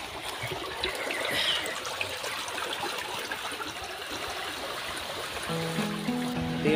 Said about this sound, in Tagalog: Ang lakas ng tubig sa irrigation.